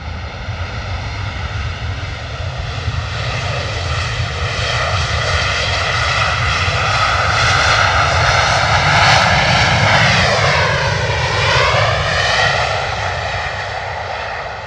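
A Ryanair airliner lands at London Stansted and brakes hard on the runway. The loud, near jet engine roar swells and holds, with a sweeping shift in pitch as reverse thrust slows the aircraft quickly.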